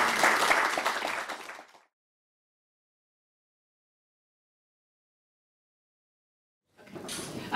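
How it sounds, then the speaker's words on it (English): Audience applause following a keynote lecture on the future of Holocaust testimonies: a dense burst of clapping for about two seconds that cuts to silence, then resumes faintly near the end. "we can clap our hands again"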